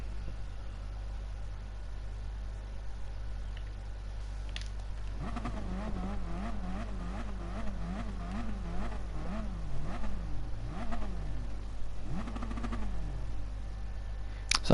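A V6 Gr.4 race car engine in Gran Turismo Sport at Mount Panorama idles as a steady low drone, then revs up and down in repeated rising and falling sweeps.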